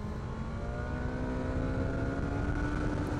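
Car engine pulling hard out of a bend on a winding road, revs climbing steadily in a rising tone over a few seconds, heard close from inside the car with constant road rumble underneath.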